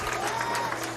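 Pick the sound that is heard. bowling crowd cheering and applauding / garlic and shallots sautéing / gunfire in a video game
bowling crowd cheering and applauding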